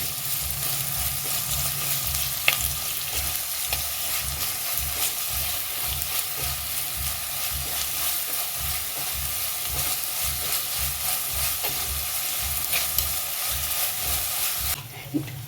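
Onions fry in ghee for Mangaluru-style chicken, a steady close sizzle with a rhythmic stirring scrape repeating under it, continuous and even throughout with no talking.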